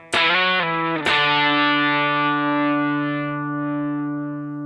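A distorted electric guitar phrase: two quick struck notes with sliding octave movement, then a sustained ringing chord that slowly decays, loud and close with no talking.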